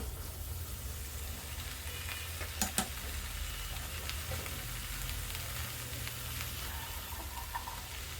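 Chopped, washed onion stalks fry with drying spices in a pan, a steady soft sizzle with a couple of brief clinks and faint stirring, no voices.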